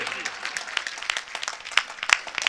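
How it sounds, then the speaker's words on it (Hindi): An audience at an Urdu poetry mushaira in Banaras claps in a spattering burst of applause that rises toward the end, with a voice speaking over it. "मैं शायरों से गुजारिश करूंगा जो स्टेज पे वो एक बार पब्लिक के लिए ताली बजा दे"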